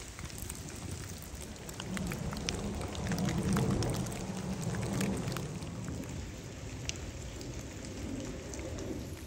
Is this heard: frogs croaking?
no